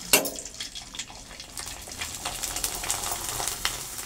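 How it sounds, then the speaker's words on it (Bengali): Papad frying in hot oil with spattering, a busy crackling sizzle with scattered sharp pops that builds slightly over a few seconds, close and moderately loud. "আচ্ছা, তেল ছিটকাচ্ছে তো।"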